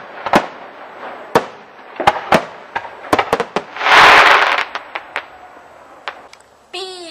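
Fireworks on Guy Fawkes night: a run of sharp, loud bangs and cracks at irregular intervals, with a dense crackling burst in the middle and more pops trailing off.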